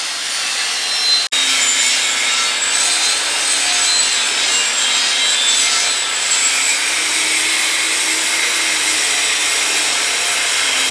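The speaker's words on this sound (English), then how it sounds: "we're just gonna give it a light grind, leave it a little bit even" A grinder steadily works a bevel into a pipe end, giving a continuous loud abrasive whine with a brief cutoff near the start, then unbroken grinding to the end.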